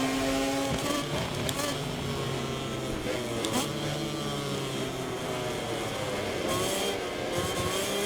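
Valentino Rossi's MotoGP racing motorcycle in MotoGP 24 during a sprint race, engine note rising and falling through gear changes with a steady buzzing drone throughout, mixed with other bikes and a commentator talking over it.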